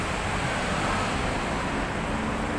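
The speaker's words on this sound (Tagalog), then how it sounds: "Kaya maingay yung kalsada." Steady roadside traffic along Commonwealth Avenue Extension near Mindanao Avenue Extension, heard as a continuous, even wash of road noise with no distinct passing vehicles standing out and no talking.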